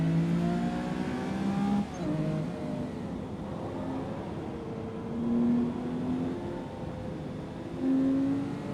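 A McLaren race car in Gran Turismo 7, its engine revving and shifting through gears, rising whines with brief dips between shifts, loud and steady for several seconds.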